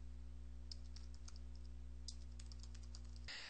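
A sentence is typed on a computer keyboard, with light, irregular key clicks close by over a low steady electrical hum, then a brief rush at the end.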